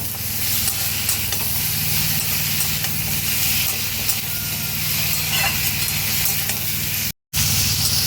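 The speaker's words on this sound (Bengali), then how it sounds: "এবার আমি মাছের মাথাটা দিয়ে দেব মশলার মধ্যে, দিয়ে ভালো করে আরেকটু মাথার সঙ্গে কষে নেব" Fish head frying and being stirred into spice masala in a pan, a steady close sizzle and hiss with stirring, continuous and loud apart from a brief cut near the end.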